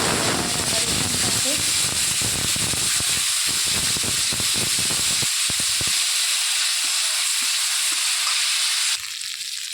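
Onion and ginger-garlic paste frying in hot oil in a wok, a loud continuous sizzle and hiss with scraping stir strokes, the crackle easing slightly toward the end.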